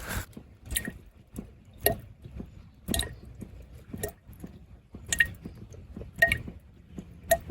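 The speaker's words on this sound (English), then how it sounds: "Oh, the drip has hollowed out one of the icicles. It's making such a cool noise." Water drips from melting icicles into a hollowed-out icicle beside a waterfall trail, giving a series of sharp, resonant plinks at irregular intervals, roughly one or two per second, close and clear over a faint low rumble, with no talking.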